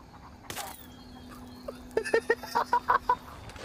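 Chickens cluck in a short run of quick, sharp calls in the video game Ghost Recon Wildlands, moderately close over quiet game ambience, with a faint clatter just before.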